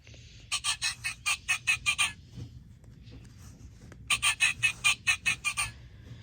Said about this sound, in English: What sound does the penguin make?